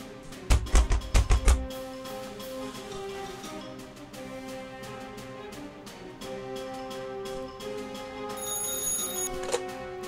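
In Joseph Stalin Simulator, a few loud thumps open the scene, then a steady electronic telephone ring repeats with short bursts over a background music bed.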